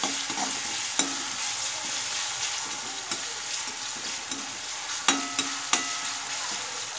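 Chopped tomato sautés in a pan for methi bhaji with a steady, close sizzle, broken by occasional scrapes and taps of a stirring spoon.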